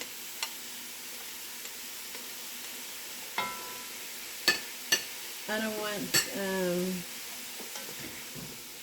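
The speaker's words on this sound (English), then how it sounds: "So I'm just going to scrape the bottom of this pan." Low steady sizzling of sausage in a frying pan, with a few sharp metallic scrapes against the pan bottom and a person speaking briefly over it.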